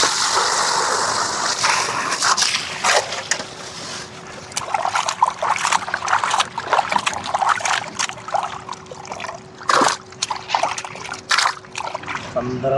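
Tiger prawns sloshed and rinsed in water by hand, with repeated splashes and trickles up close, broken by sharper splashing bursts and a steady low background hum.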